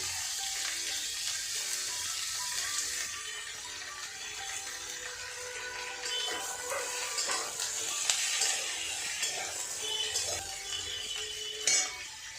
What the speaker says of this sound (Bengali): ডাটা আর আলু দিয়ে দিচ্ছি মটরশুঁটিটাও দিয়ে দিচ্ছি